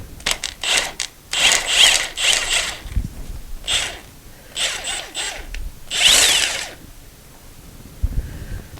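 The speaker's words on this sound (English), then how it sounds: "We're going to take out this bolt, this bolt, this bolt, and this bolt, and we're going to remove this mount" Engine mount bolts being removed on a 2008 Hyundai Santa Fe during a timing belt job, with bursts of a power tool whirring and a ratchet clicking in quick repeated runs, close and loud.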